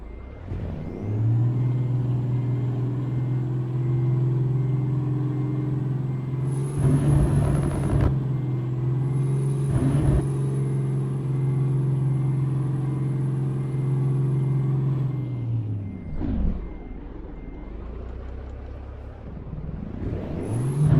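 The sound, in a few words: Peterbilt truck engine revving, American Truck Simulator video game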